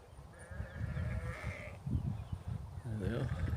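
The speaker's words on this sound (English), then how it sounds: "They're all coming to see. Little lambs." Lambs on a farm bleat a few times, faint to moderate and somewhat distant, over low rustling and footstep-like noise outdoors.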